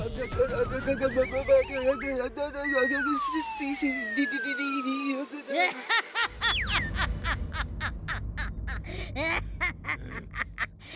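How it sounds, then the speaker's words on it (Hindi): A cartoon donkey brays in the animated series Vir The Robot Boy, with wavering, whinny-like cries over a busy cartoon soundtrack of voices and sliding effects. "ये गधा जिंटू का दोस्त लगता है।"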